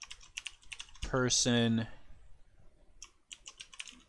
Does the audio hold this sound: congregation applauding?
no